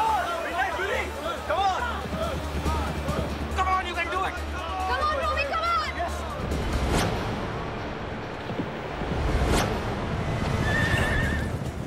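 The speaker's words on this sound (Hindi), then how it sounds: "400 मीटर के मार्ग पे घोड़े पहुंच चुके हैं" Racehorses gallop along a racecourse during a Derby race, with hoofbeats, loud neighing and a murmur of crowd voices in the background.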